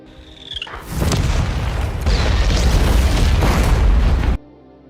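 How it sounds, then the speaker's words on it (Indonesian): Loud, continuous booming blasts from grenade launcher fire, with heavy explosions rumbling one after another for several seconds before cutting off abruptly. "langsung melepaskan tembakan dari senjata pelontar granatnya"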